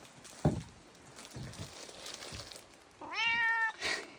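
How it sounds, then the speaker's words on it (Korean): A stray cat meows in a drawn-out, rising call near the end, after some soft shuffling and rustling noises; no one speaks. "우리 길고양이."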